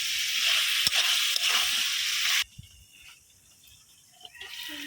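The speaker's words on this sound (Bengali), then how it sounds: "ফুলকপির সাথে হলুদ মরিচটা একদম মাখা মাখা করে ভালোভাবে কষায় নেব আমি" Cauliflower with turmeric and chili sizzles as it is sautéed in a pan, a loud steady frying hiss that suddenly drops to faint stirring and light clatter halfway through.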